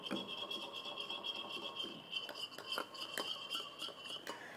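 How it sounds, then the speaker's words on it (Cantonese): A utensil gently stirring a chocolate mousse mixture of chocolate, egg yolk and brandy or orange liqueur, light scraping and clinking against a bowl in a quiet, intermittent rhythm, with no voices. "我用翻呢個攪嗰個嘢，我就咁咧輕輕攪一攪佢"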